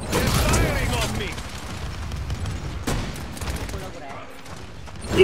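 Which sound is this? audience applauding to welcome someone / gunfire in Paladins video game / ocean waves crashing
gunfire in Paladins video game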